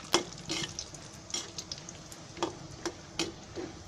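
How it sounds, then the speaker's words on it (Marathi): Cashews and almonds roasting together in hot oil for a Konkani-style poha chivda, a soft sizzle broken by scattered clicks and taps of stirring, close and fairly quiet, no talk. "आता मी त्याच्यामध्ये काजू भाजते"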